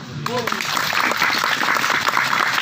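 An audience at a pre-Ramadan sermon bursts into applause, loud, dense clapping from many hands that swells and carries on through the whole stretch, with a brief voice at the very start.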